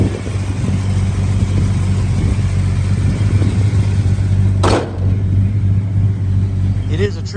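A 1970 Dodge Super Bee hardtop with a 383 V8 and four-speed runs at a steady, close, low rumble with no clear revving, and a brief gap partway through.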